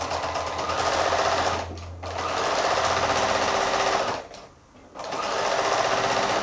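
A sewing machine stitches quilt strips onto a batting square, running loud and steady in two long bursts with brief pauses between them.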